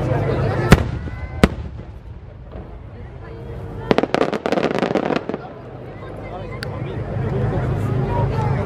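Fireworks burst at the 53rd Joso Kinugawa fireworks festival in Japan, sharp booming cracks spaced irregularly with a dense cluster of crackling explosions midway, over a murmuring outdoor crowd.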